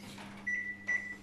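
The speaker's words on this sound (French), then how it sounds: "Donc là, je mets au micro-ondes" A microwave oven is started in a home kitchen while cooking: a steady low hum runs throughout, with two short electronic beeps at close range and no talking.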